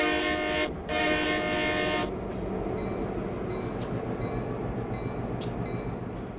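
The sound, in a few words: train locomotive throttling up in reverse, Train Simulator 2014 video game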